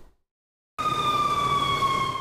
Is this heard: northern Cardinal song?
no